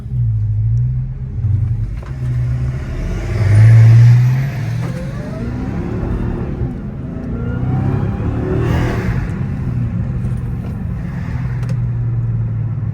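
A Dodge Challenger Hellcat Widebody Jailbreak driving in traffic, its supercharged engine rumbling loud and close, with one strong rev surge partway through and a steady, throbbing low idle-to-cruise drone around it.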